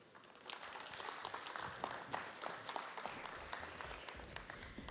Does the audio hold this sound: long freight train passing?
no